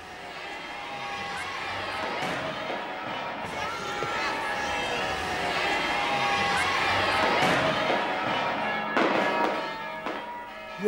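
Crowds cheer at a Danish royal wedding procession, a steady, distant roar of jubilation that swells and fades, with faint bells and a voice talking over it.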